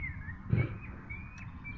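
Large birds call in a backyard, with a thin, faint whistling line running through the whole short stretch and a brief louder burst midway over steady low rumble.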